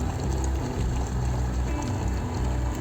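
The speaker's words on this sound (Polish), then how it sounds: "Widzicie, jak woda bulgocze." Water bubbling in a pot heated on a kitchen stove with a tin can set inside, a close, steady, dense simmering burble with no talk.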